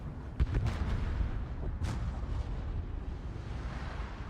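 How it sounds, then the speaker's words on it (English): Torpedo hits exploding against ships in World of Warships. Two or three quick booming bursts come early, then a sharper blast near the middle, all over a low steady rumble, moderately loud with no talking. "2 more torpedo hits."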